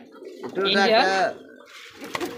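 Black Bombay pigeons at a pigeon farm give a rolling, throaty coo lasting under a second, close and clear, followed by quieter rustling and a brief voice.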